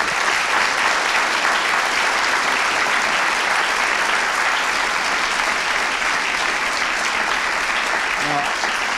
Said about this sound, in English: Would you join me in a round of applause and thank them?